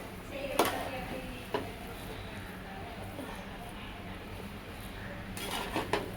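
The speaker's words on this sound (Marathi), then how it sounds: "हलवून घेत आहोत." A spoon stirs masala rice in a pot, with a few sharp scrapes and clinks against the metal, spaced apart, over a low background hum. A cluster of clinks comes near the end.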